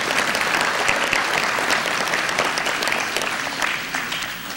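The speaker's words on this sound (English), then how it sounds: "So will you give me applause" A conference audience breaks into steady, dense applause for a speaker at an international Toastmasters event, the clapping filling the room loudly and evenly before tapering slightly at the end.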